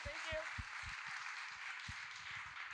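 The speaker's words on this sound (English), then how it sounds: "round of applause, please" An audience at a startup challenge event applauding, a steady patter of clapping heard under a person speaking.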